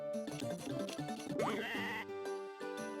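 Sheep bleating in the farming game Harvest Moon: Tale of Two Towns, a short bleat set against busy game music and chimes that continue throughout.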